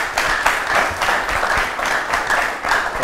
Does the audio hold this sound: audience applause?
yes